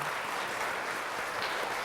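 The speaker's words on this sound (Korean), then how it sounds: "박수 환영하겠습니다" A church congregation claps steadily and warmly during a Sunday service, a dense, even applause lasting about two seconds.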